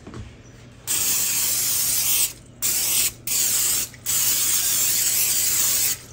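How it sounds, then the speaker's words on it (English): Cooking spray hissing out of a can into a pie pan, in four close, loud bursts of steady hiss separated by short pauses, with no talking. "I'm gonna spray this down here"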